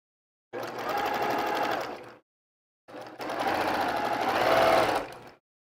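A sewing machine stitching jelly roll quilt pieces together, running in two steady bursts of rapid whirring, the second longer, close by with silence between.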